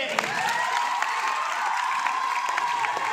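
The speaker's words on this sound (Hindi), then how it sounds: "एक बार फिर से जोरदार तालियों से स्वागत करिए।" Audience applause and cheering at a teachers' quiz-show drama performance for Teachers' Day, a steady wash of clapping with scattered shouts throughout, loud and continuous.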